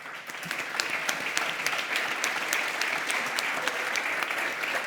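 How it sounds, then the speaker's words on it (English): An audience at a conference session on microfinance and worker buyouts claps in a sustained round of dense, even applause, close and steady from start to finish. "If I can ask for a big round of applause for them."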